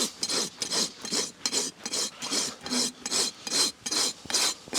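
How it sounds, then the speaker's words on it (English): A farrier files a horse hoof with a rasp in steady back-and-forth strokes, about two per second. Each pass gives a close, gritty scraping sound with brief pauses between strokes. "Just rasping around 2/3 of the foot."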